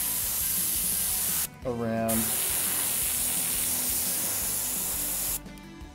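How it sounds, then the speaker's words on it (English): A spray bottle mists liquid onto skin to set a tattoo stencil, giving a loud, close, continuous hiss that cuts off briefly for a short spoken word and then resumes. "I'm gonna lay it down, and we're gonna spray"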